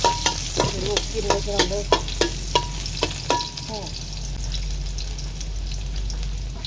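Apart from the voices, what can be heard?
stir-frying basil pork with cabbage in a pan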